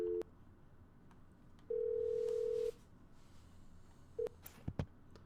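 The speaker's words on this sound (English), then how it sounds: "I'm going to make a phone call." Telephone dial tone in the Simrail train simulator: a steady single tone lasting about a second, heard alone after brief beeps, followed by a short tone and a few faint clicks from the handset.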